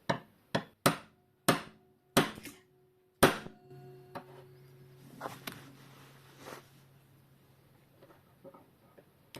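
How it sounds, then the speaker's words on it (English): A small hammer taps a metal punch to seat a brass bushing into a clock plate, six sharp, close, evenly spaced strikes followed by quieter handling clatter and faint knocks. "and give it a tap with the hammer."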